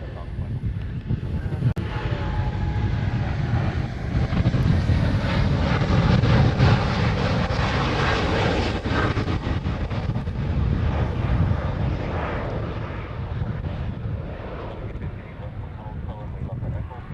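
An Airbus A380 taxiing at Honolulu airport gives a loud, steady jet engine roar that holds for the whole stretch, with wind buffeting the microphone and a voice talking over it.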